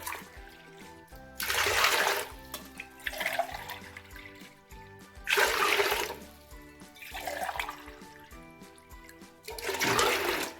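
Water gushes in repeated pours into a pot, three strong surges with softer splashes between, close and hollow-sounding, with no talking.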